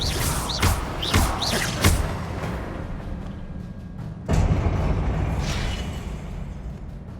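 Confringo fire spells cast in Hogwarts Legacy: several sharp whooshing blasts in quick succession, then a heavy thudding impact and a lingering rumbling burst, with no talk.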